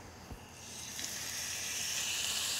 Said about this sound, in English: we're just going to give this just a quick sear